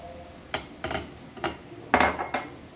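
A spoon scrapes and clinks around a bowl while a healthy evening snack batter is mixed, a few uneven knocks and scrapes heard up close with no talking.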